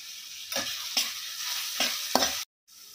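Onions and spices with coriander powder frying in a pan, a close, bright sizzle with four quick stirring scrapes before sudden silence.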